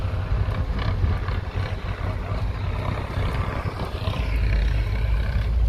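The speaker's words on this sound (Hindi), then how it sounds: "ये देखो कैसे ट्रैक्टर से इसको पीस रहे हैं।" A tractor threshing crops in Kibber village gives off a continuous, fairly loud engine rumble and churning roar that swells louder toward the end, with no voices.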